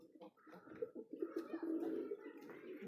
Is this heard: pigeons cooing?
yes